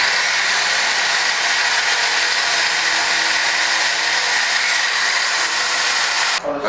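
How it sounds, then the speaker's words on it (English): A power drill bores steadily into a bolt under a Mazda Miata, a loud, continuous whirring grind close by that cuts off abruptly at the end. "I'm trying to drill through the bolt so that we can get a hole."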